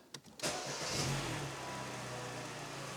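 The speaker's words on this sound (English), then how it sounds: "So I will start the car" A Mini One with a failing O2 sensor cranks briefly with a few starter bursts, catches, and settles into a steady mid-pitched idle, heard up close with no talking.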